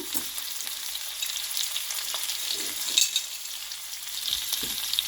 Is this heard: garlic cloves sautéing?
yes